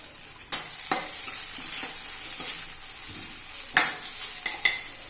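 A spoon stirs cooked poha (flattened rice) in a pan after lemon juice is squeezed in, with a soft sizzle under sharp scrapes and clinks against the metal, a few distinct knocks spaced across the stretch, close and alone.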